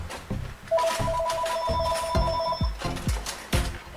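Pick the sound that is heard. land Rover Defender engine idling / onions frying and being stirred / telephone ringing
telephone ringing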